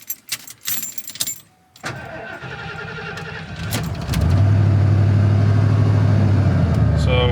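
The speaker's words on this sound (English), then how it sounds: "this will just be a demonstration of how it starts and runs." Keys jangle briefly, then a 1990 Ford F-150 pickup's engine with a rough idle cranks, catches and settles into a steady, close rumbling idle that grows slightly louder.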